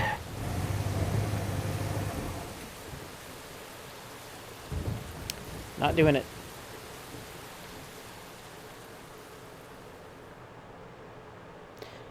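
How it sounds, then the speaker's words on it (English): Rain and thunder roll through the video game Deadly Premonition: a low thunder rumble opens, a soft steady rain hiss continues throughout, a brief crack and another thunder burst come midway, and a voice speaks briefly. "Actually, because it's raining"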